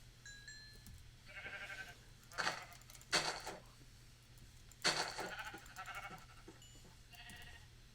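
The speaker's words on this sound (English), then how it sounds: "Is that a pink sheep?" Sheep bleating in a video game, with several wavering bleats and some clinking sounds at low level over a steady background hum.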